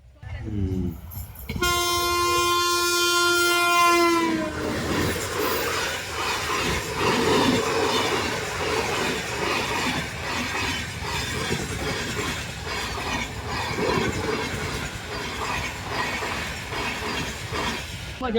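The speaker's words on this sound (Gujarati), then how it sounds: "લગભગ એ ટ્રેન વંદે ભારત એક્સપ્રેસ હતી, જે સ્પીડમાં જઈ" A Vande Bharat Express blasts a loud horn close by, then rushes past at speed with a sustained roar and rail clatter lasting well over ten seconds.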